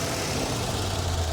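A Chevy 327 V8 rated at 340 horsepower in a C2 Corvette convertible runs steadily up close, with a continuous low rumble and no voices.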